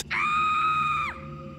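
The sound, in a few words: person screaming repeatedly in pain, horror story sound effect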